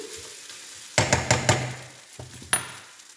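Leftover cooked rice being stirred and mixed in a pan with a spatula, giving a few quick scraping, knocking strokes over a light sizzle, then a brief pause and one more clatter close by.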